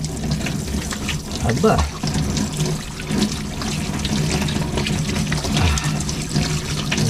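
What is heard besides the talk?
tap water running while washing hands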